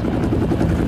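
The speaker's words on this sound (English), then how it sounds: "approaching him with a helicopter" A helicopter in a scene from the action film Cliffhanger makes a heavy, loud rotor rumble and thrum throughout a short moment.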